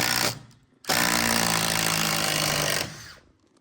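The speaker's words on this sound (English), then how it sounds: "attempting to pre-drill a hole with the actual timber lock itself" A power drill whirs loudly in two bursts, a short one then a longer sustained run, grinding into pine timber through a timber lock, with no talking.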